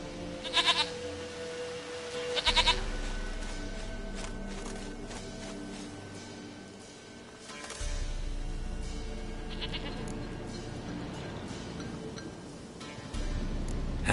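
A goat in a PlayStation 4 video game bleats in a few short, separate calls over quiet ambient game sound and low background tones.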